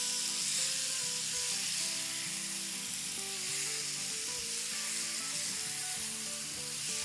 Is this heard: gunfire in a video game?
no